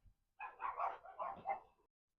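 Several dogs bark outdoors on a nice day, a short run of four or five close, fairly loud barks in an uneven rhythm, with no talk over them.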